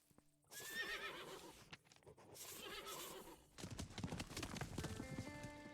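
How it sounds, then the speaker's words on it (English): In the video game Above Snakes, a horse whinnies loudly, then its hooves clip-clop in a quick, steady rhythm as it moves off, fairly close and with no talk. "We're going to take the horse and go back."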